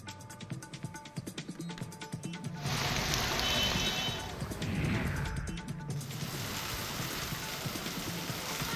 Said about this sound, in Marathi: पुण्याच्या मध्यवर्ती भागासह उपनगरामध्ये पावसाची संततधार सकाळपासून पाहायला मिळते